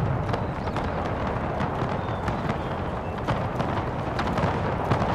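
Galloping cavalry horses in the battle game Napoleon: Total War, a steady dense drumming of many hooves rolling on continuously and loudly, with no talk over it.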